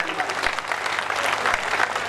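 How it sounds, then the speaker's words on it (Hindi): Audience applause at a Hindi kavi sammelan, a heroic-verse poetry recital, with dense steady clapping from a large crowd filling the whole moment. "जरा आसमान में हाथ उठाकर आपकी तालियां चाहता हूं।"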